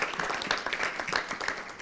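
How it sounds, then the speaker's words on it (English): A panel session audience at a family offices investment summit claps in a dense, continuous round of applause, many hands close and loud throughout. "Let's have a round of applause"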